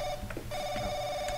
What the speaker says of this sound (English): Fucking phone.